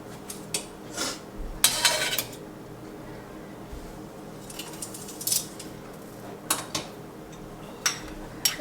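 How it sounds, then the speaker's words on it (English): Utensil scraping stuck-on bits off the bottom of a pan on low heat while cooking salmon, a few scattered metallic scrapes and clinks over a faint background hiss. "I've got my pan on low and I'm just removing some of the bits that were stuck on the bottom of the pan"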